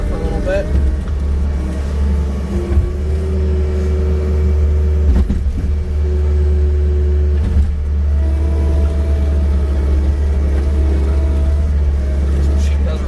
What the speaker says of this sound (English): So just work here with the skid loader for a little bit.